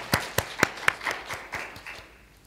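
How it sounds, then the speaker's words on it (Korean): A church congregation at a Sunday worship service claps to welcome a visitor: a handful of sharp, separate claps in a steady rhythm that soften and trail off within a couple of seconds. "우리 다 같이 박수로 환영하겠습니다"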